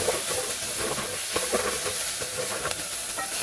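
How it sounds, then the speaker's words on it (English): Bitter melon and pink salmon stew with onion, garlic, thyme and sweet pepper stirred in a pot, a steady sizzling hiss with scraping, clinking spoon strokes throughout, close and moderately loud. "I'm going to give this a stir"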